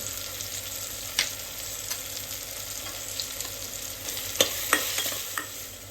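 Tomatoes frying in a pan for egg biryani are stirred, with a continuous soft sizzle and a few sharper scraping clinks from the spoon against the pan.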